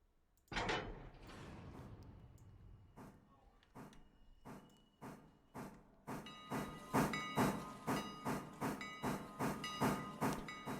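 A video game steam train in Railroader hisses and chugs, starting with a burst of steam, then rhythmic puffs grow quicker and louder, each with a sharp metallic edge.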